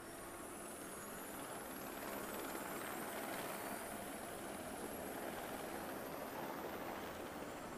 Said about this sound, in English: I do believe that is a helicopter